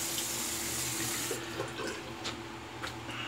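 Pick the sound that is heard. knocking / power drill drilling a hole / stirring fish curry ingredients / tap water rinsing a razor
tap water rinsing a razor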